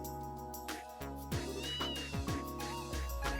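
A cat meows several times in short, rising calls over a layer of game music and ambience, moderately close.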